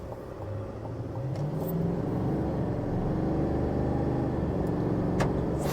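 A 2024 Chevrolet Silverado with the 6.6 litre Duramax engine accelerates with a rising, steady rumble, heard from inside the cab and growing louder over several seconds with no talk.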